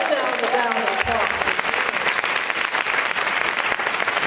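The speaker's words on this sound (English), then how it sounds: "So give yourselves a round of applause." An audience at a sorority event breaks into sustained applause, dense clapping filling the room at an even, fairly loud level, with a voice briefly heard at the start.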